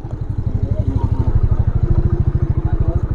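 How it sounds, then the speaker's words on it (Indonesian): A big motorcycle idles and rumbles close by on a narrow village footpath, its engine a steady loud pulsing throb throughout. "ada motor gede."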